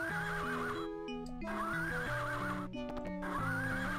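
A synthesized horse whinnies twice in the Sega Genesis game Crystal's Pony Tale, wavering neighs over bouncy chiptune music with clip-clop hoofbeats.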